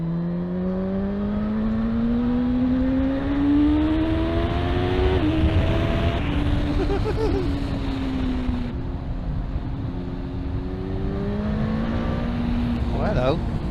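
A Suzuki GSX-S1000 inline four-cylinder performance motorcycle engine drones loudly and steadily, pitch rising smoothly as it accelerates through gears, with a rider speaking over the sound.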